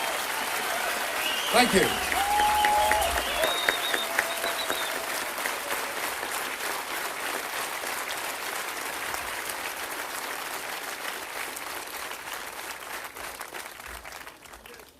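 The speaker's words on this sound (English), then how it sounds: "Please, a big round of applause for our conductor" Concert audience applauding the conductor at an orchestral rock show, a dense sustained wash of clapping that swells early and holds steady, with a voice speaking briefly over it.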